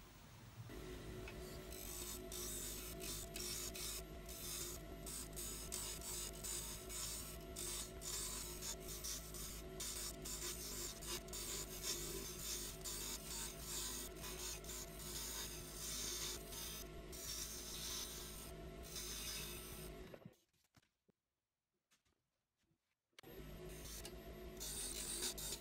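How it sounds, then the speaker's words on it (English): Wood turns on a lathe as a bud vase is shaped, with a faint continuous scraping and rasping whir that runs steadily, then cuts out briefly before resuming. "I'm now going to start working to that as I cut the wood and aim for this shape again"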